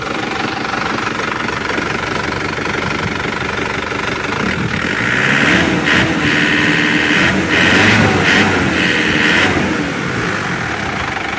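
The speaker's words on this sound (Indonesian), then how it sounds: "Dan ini adalah suara mesinnya." A car engine with a faulty oil switch runs steadily nearby with a dry, rattling idle, briefly revving louder in the middle before settling back.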